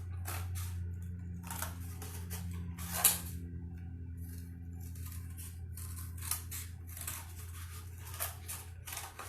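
Scissors snip through cardboard to cut out a drawn oval for a kids' 3D angler fish craft, a steady series of close, crisp cuts with one sharper snip early on, no voices.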